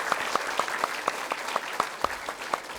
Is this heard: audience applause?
yes